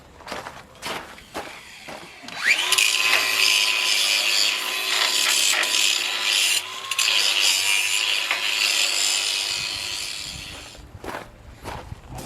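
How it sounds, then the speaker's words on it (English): Welding on the front clip of a 1955 Pontiac Star Chief, a steady loud sizzling, crackling arc that runs for about eight seconds, framed by brief clicks and knocks before and after. "That's what you call top-notch welding right there."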